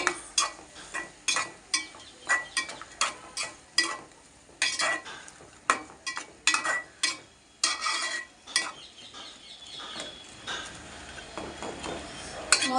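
Onions for a vegetable biryani frying in a pan, with repeated sharp scraping and stirring strokes of a spoon against the pan over a steady sizzle, close and fairly loud, with no voices.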